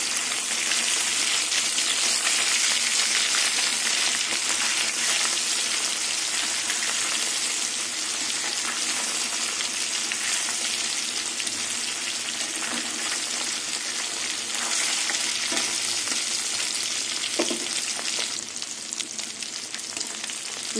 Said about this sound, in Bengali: তেল গরম হয়ে গেছে, এবার মাছগুলো তেলে ভেজে নেব।